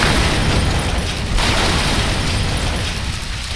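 A military vehicle in the ARMA 3 combat game takes an explosive hit, a loud, dense, sustained blast of broadband rumble and debris noise lasting several seconds with no speech over it.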